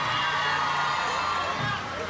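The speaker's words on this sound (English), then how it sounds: "Give a round of applause, somebody, please." Crowd at a live outdoor dancehall show in St Mary, Jamaica, cheering and clapping loudly in a sustained wash of noise, with a voice shouting over it and fading near the end.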